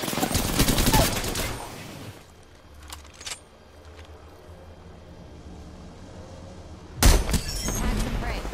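Apex Legends gunfire comes as loud bursts of automatic fire at the start and end, with quieter scattered shots and mechanical clicks in the lull between, heard close up.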